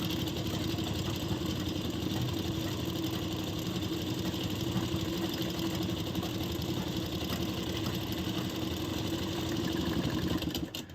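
A sewing machine runs steadily while stitching over a blouse sleeve, a continuous dense mechanical whir held at even loudness for about eleven seconds before cutting off at the end.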